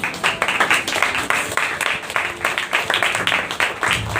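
An audience at a youth revival conference applauds, with dense, steady clapping from many hands that fills the room throughout.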